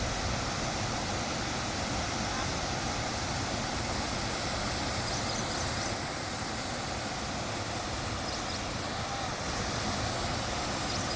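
Water roars steadily over a dam on the Noyyal River, a dense, unbroken rushing wash that stays loud and even throughout.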